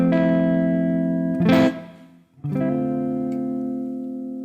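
Clean tones from an Ibanez Jem 7V electric guitar, a chord ringing out and sustaining, briefly cut off, then struck again and left to ring loud and close with no talking.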